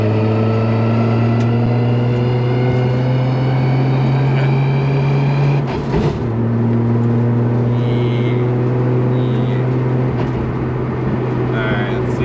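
A Nissan R32 GTR with a straight-cut dogbox gearbox driving, a loud steady engine drone with prominent gear whine that dips briefly at a shift midway, with people talking over it.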